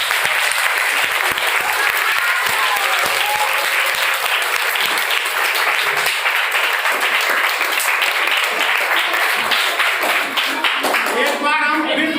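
An audience claps steadily and loudly throughout a classroom-style science demonstration of a homemade siphon pipe made from a plant, with faint voices mixed into the dense applause.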